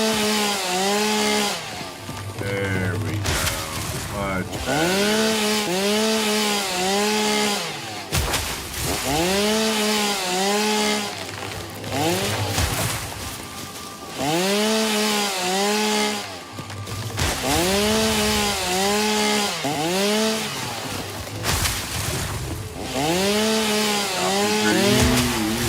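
A chainsaw in the video game Satisfactory, a loud steady revving drone with rising and falling pitch sweeps repeating in long bursts, close and continuous.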